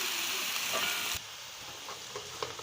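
Onions frying in a pan until light golden brown for a mash dal fry, a close, steady sizzle that drops to a lower hiss partway through, with a few faint stirring taps and no voices.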